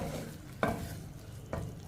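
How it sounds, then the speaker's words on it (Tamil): Chopped palak keerai spinach sautéing in a pan, a steady soft sizzle broken by two scraping stir strokes of a spoon against the pan, close by and without talk. "இப்போ கீரையை நம்ம வதக்கி போட்டாச்சு. இதை நல்லா வதக்கிக்கிடுவோம்."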